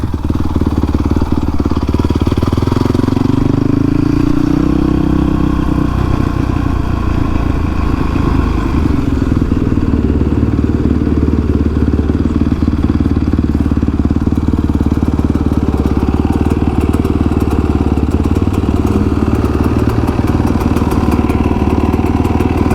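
A Honda CRF 450X supermoto motorcycle runs loud and close throughout, its engine revving and then settling into a steady buzzing drone while riding.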